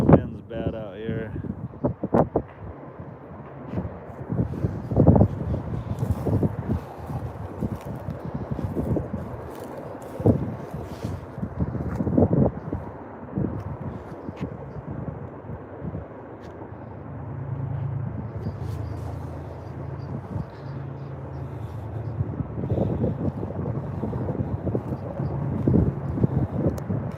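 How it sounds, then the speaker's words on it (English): Strong outdoor wind buffets the microphone beside a goat in labour, a steady low roar with gusts that swell and fade over nearly half a minute, while people talk now and then over it. "the wind's bad out here"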